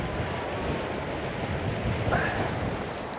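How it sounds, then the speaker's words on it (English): Steady wind roars and rushes against the microphone on a stormy fishing bank, with a brief higher whistle rising partway through. "That wind caught that. That wind's whistling round there."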